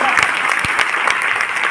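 Audience clapping steadily at a motivational talk on the DTM business system, a dense, even patter of many hands held for under two seconds with no voices over it.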